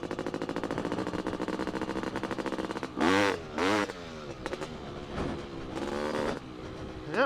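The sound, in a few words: two-stroke dirt bike engine during wheelie attempt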